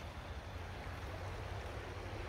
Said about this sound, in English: Nice view, running water.